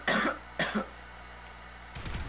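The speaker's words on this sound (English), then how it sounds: "Every time I cough, I feel like I'm gonna throw up." A person coughs twice in quick, harsh bursts close to the microphone, followed by a quiet pause and a softer rumbling sound near the end.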